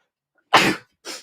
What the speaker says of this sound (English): I can sneeze.